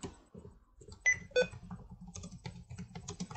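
Keys tapped on a computer keyboard while a question is typed into a Google Form, a loose run of light clicks with a few sharper strikes near the start.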